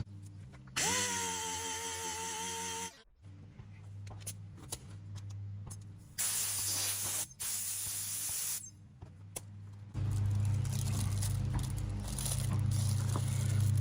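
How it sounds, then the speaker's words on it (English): A dual-action sander with 400 grit paper runs on fiberglass filler in a camper repair, a close airy whirring hiss in several bursts separated by short pauses. "We're going to hit it with a DA with the 400 grit."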